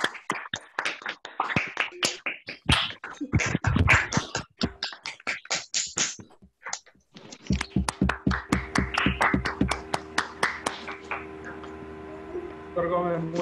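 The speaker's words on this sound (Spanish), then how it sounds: "te damos un aplauso muy grande" Scattered online audience applause through many opened microphones at the close of a Spanish-language talk on dry eye, uneven and choppy claps from separate sources, with a steady hum and tones joining in the latter half.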